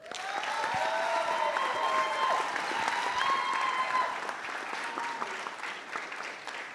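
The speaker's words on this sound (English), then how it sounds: "Let's clap it up." A crowd applauds at a high school signing day, dense sustained clapping that stays fairly loud for several seconds before thinning slightly toward the end.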